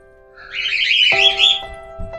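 Pet birds on a home terrace chirp in a bright, busy burst of overlapping tweets, close and fairly loud, followed by a few thinner, sustained whistling notes.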